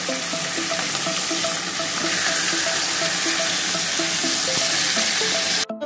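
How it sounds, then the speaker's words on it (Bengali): Pieces of katla fish fry in hot oil with a loud, continuous, close sizzle that holds steady for several seconds before cutting off abruptly at the end. "তো দেখো মাছগুলোকে আমি ভাজতে দিচ্ছি।"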